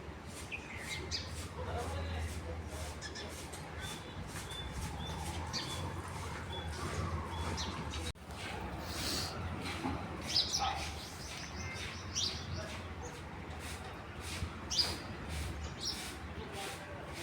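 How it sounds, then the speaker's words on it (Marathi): Many sparrows chirp and tweet continuously at a house doorway on a sunny morning, a busy cheeping chorus over faint background noise. "आमच्या दारात चिमण्या किती छान येतात बघा."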